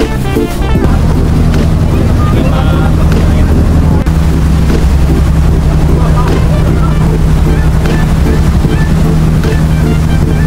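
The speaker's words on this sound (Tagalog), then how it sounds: "sa tawid namin, nakasakay na kami ng bangka" A motorboat engine drones steadily and loudly up close during a crossing to Cagbalete, with water rushing and wind buffeting underneath the whole time.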